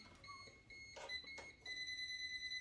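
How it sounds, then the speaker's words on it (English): High electronic beeps from a voltage tester detecting live current at a ceiling light repeat rapidly and steadily, thin and piercing, over a quiet background. "when it's beeping rapidly, most likely you have a current"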